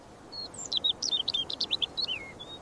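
A small bird near its nest gives a quick series of high, thin chirps, about a dozen short notes in a lively cluster, close and fairly clear over a soft background hiss, with no talking.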